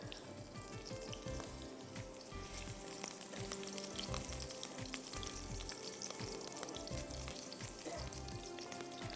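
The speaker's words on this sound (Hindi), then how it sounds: "ये मैं यहाँ आलूओं को हल्का सा फ्राई कर रही हूँ" Potatoes frying lightly in oil in a pan, a steady dense sizzle with crackling pops running throughout at close range, no voices.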